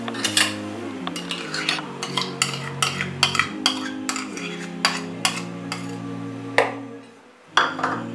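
A metal spoon scrapes and clinks steadily against a bowl or pan as yogurt is stirred into raw mutton chops with spices. The close, rhythmic clattering runs throughout with no talking.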